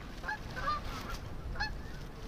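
Geese honking as they fly over a big-water sand pit during a goose hunt, several distinct honks at moderate distance over a steady outdoor background.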